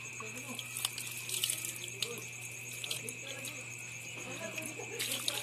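Water runs steadily from a kitchen tap into a sink during dishwashing, a constant hiss with faint clinks and a voice speaking over it.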